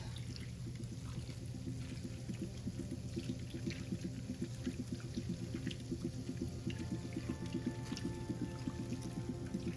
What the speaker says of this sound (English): Now we're going to top it off with some broth.